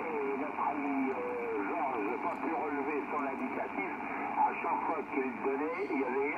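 Steady crackling radio interference static on an SDR receiver with a warbling, buzzing tone that fills the whole stretch, constant and fairly loud with no pauses.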